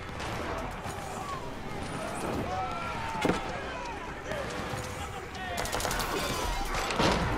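Hand cannons firing from fortresses in Age of Empires IV, scattered sharp cracks and bursts of gunfire mixed with battle clatter, mid-level in the game mix while someone talks over it.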